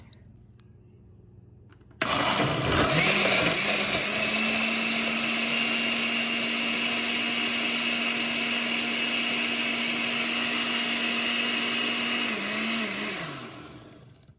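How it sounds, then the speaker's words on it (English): A blender starts abruptly and runs at a steady, loud whir for about ten seconds blending a posole soup base with water, then winds down at the end. "And we're going to blend that up."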